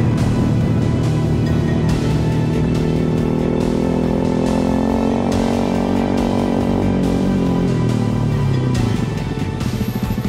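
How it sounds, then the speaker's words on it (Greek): Strong, steady wind roars and buffets while riding a Husqvarna 701 Enduro motorcycle along a mountain road toward a ridge at about 1100 metres, dense broadband rushing that stays loud throughout with a low engine drone beneath and a slight easing near the end. "Ακούσει τον αέρα"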